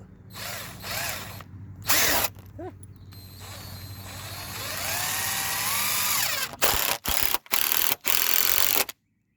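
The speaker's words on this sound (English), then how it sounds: "We're going to put our first screw in." A drill drives a screw through a board into a 4x4 post while building a raised garden bed, with a long ratcheting whir that rises in pitch and ends in several short bursts as the screw seats, followed by silence.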